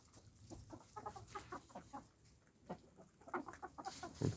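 An old hen, about two years old, clucks softly in a series of short, quiet clucks, close by, over a faint background hum, in winter housing.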